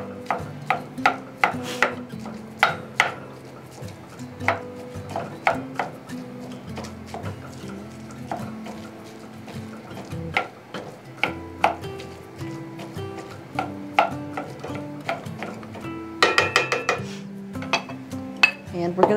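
A spatula scrapes and clacks against a pan while ground meat is broken up for a keto shepherd's pie, giving a steady run of close, irregular knocks and scrapes with a burst of quicker clinks near the end.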